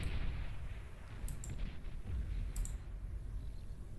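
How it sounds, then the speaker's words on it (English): Artillery shelling in the strategy game Beyond All Reason from Wolverine units, a continuous low rumble of distant impacts with a few sharp clicking bursts layered on top. "they're also being shelled by artillery from these Wolverines down here as well"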